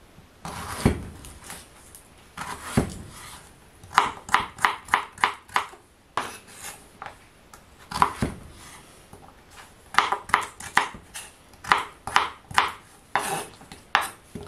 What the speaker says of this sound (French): Voilà, mes carottes, je les coupe en deux. Et je fais des petits cubes.